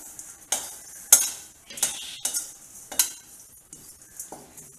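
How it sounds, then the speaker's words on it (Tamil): Dry ginger powder stirred with a metal spoon in a hot pan, a series of scraping strokes and light clinks with a faint sizzle underneath, close and fairly loud, no voices. "பவுடர் வந்து கருகி போயிடாமல் ரோஸ்ட் பண்ணிக்கோங்க"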